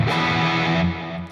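An Eastwood Airline '59 3P DLX electric guitar played with distortion through a tube amp, a thick sustained chord ringing loud and alone, then fading in its last moments.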